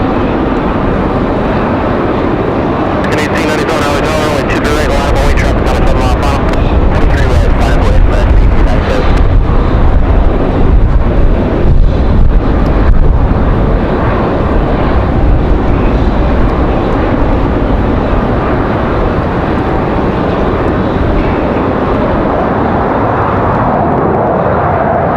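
An arriving airliner from Washington, D.C., roars in on gusty approach at Raleigh-Durham International Airport, its broad engine rumble building and blending with heavy wind buffeting on the microphone, loud and sustained throughout.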